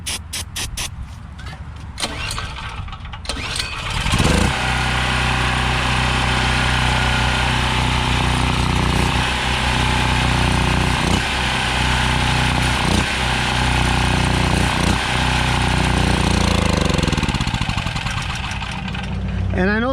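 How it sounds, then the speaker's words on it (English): A generator engine cranks with a couple of pulls, fires on starting fluid and settles into a loud, steady, close running drone with slight surges, then winds down at the end. "the only way it starts is if I only started with starting fluid."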